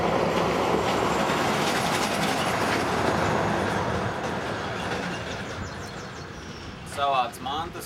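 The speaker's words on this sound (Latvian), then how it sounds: "Savāc mantas un gāju uz vilcienu." A train rumbles steadily on the tracks with rhythmic clatter, then a high squeal rises near the end; a voice is heard briefly.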